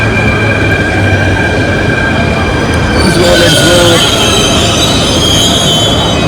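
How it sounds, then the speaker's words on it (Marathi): A metro train rolls into a Mumbai metro station, its wheels rumbling and squealing in a loud, steady roar that fills the whole stretch, with a brief voice speaking over the noise. "आपली मेट्रो आलेली आहे."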